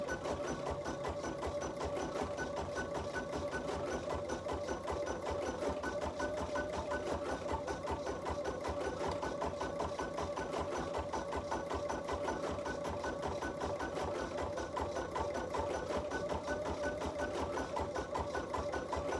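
An embroidery machine stitching decorative stitches, a fast steady mechanical needle rhythm with a constant motor whine, close and continuous throughout.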